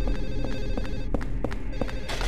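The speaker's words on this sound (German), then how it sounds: "Das Telefon. Es muss einfach aufhören." Telephone ringing inside the Silent Hill 4: The Room video game, a steady run of repeated bell-like pulses over a dense, droning game soundscape, loud and continuous with no talk.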